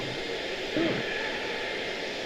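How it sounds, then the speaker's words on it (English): A distant jet airliner, an Etihad Airbus A350-1000 at Charlotte airport, produces a steady low broadband rumble and whine. The sound is faint and unchanging, with a brief soft swell near the start. "Etihad A350 1000 up next"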